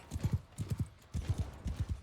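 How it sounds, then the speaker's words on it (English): Fast galloping horse hooves from Mount & Blade 2 Bannerlord, a crisp close clip-clop in tight groups of three beats repeating steadily, loud and alone without speech. "for some reason, my horse is like very fast again"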